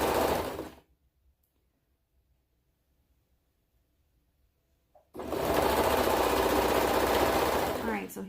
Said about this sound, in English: So go ahead and serge around.